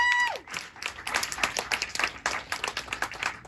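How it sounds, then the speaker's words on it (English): Crowd at a labor activists' rally in Echo Park clapping in uneven bursts with scattered cheers, following a brief rising whistle-like tone at the start, with no talk over it. "Yes, clap it up."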